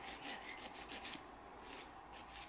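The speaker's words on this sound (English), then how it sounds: "there's like a rough bit at the edge, so I'm just filing that bit off" A nail file rasps across the rough edge of Kiara Sky Gelly gel nail tips in quick, steady back-and-forth strokes, close and soft.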